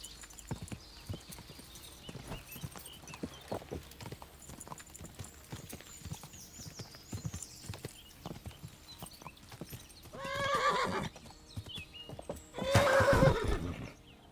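A horse in the medieval game Kingdom Come: Deliverance II gallops with steady, close clip-clop hoofbeats throughout, then gives two loud whinnies near the end.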